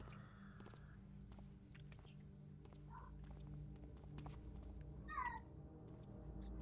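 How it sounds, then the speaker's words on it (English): A cat meows several times, quietly and in short separate calls with gaps between them. The meows sit low in the mix under a steady background hum, and faint clicks and shuffling sounds are scattered throughout. "What are you meowing at, dude?"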